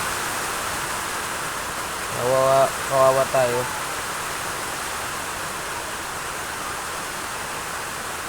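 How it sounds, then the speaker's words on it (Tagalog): Heavy, steady rain pours down in a thick broadband wash throughout, and a voice speaks briefly partway through. "Ang lakas ng ulan dito. Masyadong malakas, naririnig nyo."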